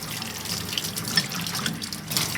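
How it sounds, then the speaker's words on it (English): Water from a tap runs over a ceramic piece during a brief rinse before glazing, giving a close, continuous splashing hiss with small irregular spatters and no voices. "I'm going to rinse off my piece just briefly"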